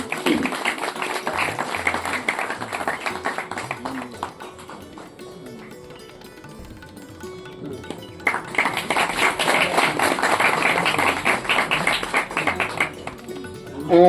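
Audience clapping at a Sateri Devi temple ceremony in Chipi village, Sindhudurg: steady dense applause from a crowd, fading mid-way then swelling again louder, with faint voices underneath.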